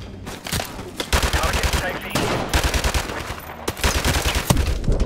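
Loud gunfire crackles in the Call of Duty 4 shooter game, with a hard-recoiling weapon firing in dense, repeated bursts that run almost continuously through the scene.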